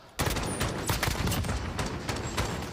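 Rapid gunfire in a Call of Duty esports match, a dense sustained burst of loud overlapping shots with several sharper cracks standing out, continuing without pause.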